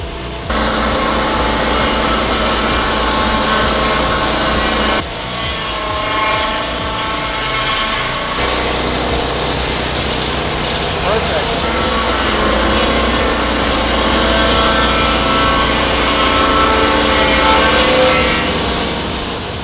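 A loud chainsaw roars continuously through wood making rough cuts, its engine droning with brief dips and shifts as cuts change, no voices present.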